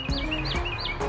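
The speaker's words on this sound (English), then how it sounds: "The birds are chirping." Birds in a garden give repeated bright chirps, about three short rising calls in quick succession, close and clear over light background noise.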